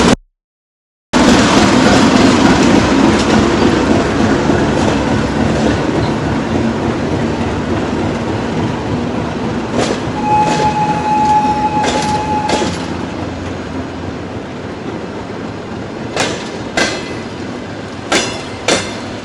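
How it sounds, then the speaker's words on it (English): Railway cars on a long-distance Russian train are uncoupled and moved, heard as a loud rolling rumble with clickety-clack, a brief thin wheel squeal midway, and sharp metallic clanks and knocks toward the end. "look, they're removing half of the train."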